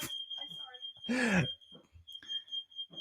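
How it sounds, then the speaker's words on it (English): A smoke alarm's thin, high continuous tone sounds faintly in the background while a person talks and coughs or clears their throat nearby. "my smoke alarm is going off."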